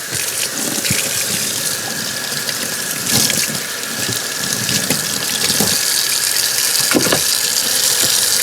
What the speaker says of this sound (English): Hot water going.